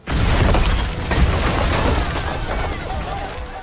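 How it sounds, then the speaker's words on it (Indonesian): An explosive charge blows apart a prison wall in a film, a sudden loud blast that becomes a sustained rumbling roar of crumbling debris, slowly easing off. "Lalu Bishop menempelkannya menggunakan permen karet hingga dinding tersebut pun akhirnya hancur."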